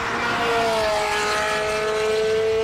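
A classic car's engine revs hard as it passes along a scenic road, a rising and falling roar that sweeps by loud and close.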